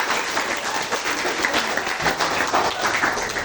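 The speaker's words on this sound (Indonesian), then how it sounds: "Silakan tepuk tangan" Classroom audience applauding after a student group presentation, a steady wash of many hands clapping for several seconds at moderate loudness.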